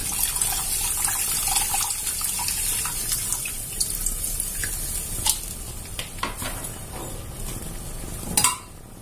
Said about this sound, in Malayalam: എത്രയാണ് നിങ്ങൾക്ക് ഗ്രേവി ആവശ്യമോ അതിനനുസരിച്ചുള്ള പുളിവെള്ളം ഒഴിച്ചു കൊടുക്കുക